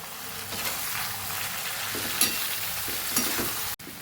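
Okra (bhindi) curry sizzles steadily in a pan as red chili powder and coriander-cumin powder are stirred in, with a constant close frying hiss and a few soft scraping knocks.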